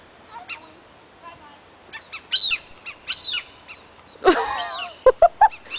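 Seagulls call overhead in Norway as several birds swoop near a nest with a chick, giving loud honking cries in bursts, then a rising squawk followed by three sharp, closely spaced calls.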